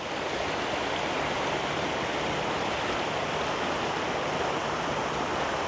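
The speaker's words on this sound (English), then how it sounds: "looking at this creek is just how manicured it is, in the sense of a lot of different spillways or waterfalls." Mountain creek in Ortisei, Italy, spills over a series of small spillways and waterfalls, making a constant, full rushing hiss of water that stays close and steady throughout, with no voices.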